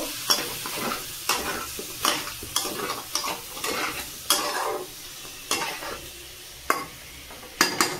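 A spoon stirs chicken curry in a hot pan, scraping in repeated strokes over a low sizzle, each pass marked by a sharp knock against the pan, close and without talk.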